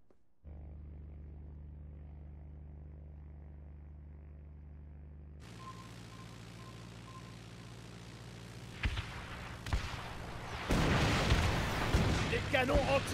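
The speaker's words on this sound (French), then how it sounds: "Des canons anti-aériens!" Anti-aircraft guns fire in the video game Knack: after a long, low droning hum, loud sharp bursts of gunfire and blasts break in near the end, growing denser and heavier over the final seconds.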